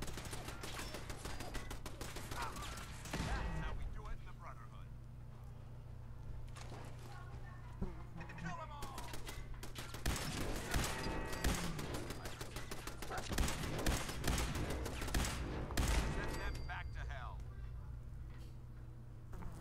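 Turrets firing in Fallout 4 produce repeated bursts of gunfire in clusters, with rapid volleys around the middle and later, while someone talks over them at times.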